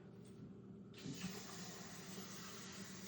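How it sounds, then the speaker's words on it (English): Water poured into the bottom of a baking pan for stuffed peppers, a soft trickle that becomes a steady, gushing pour about a second in and keeps flowing, quiet and close. "We are gonna add just a little bit of water to the bottom of the pan"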